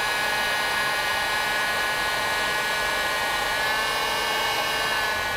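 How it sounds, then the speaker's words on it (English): A heat gun runs continuously with a steady, close, even whooshing hiss and no pauses, used during automotive electrical repair work. "I just want to make absolutely sure that I don't smell anything else before I fire this heat gun up."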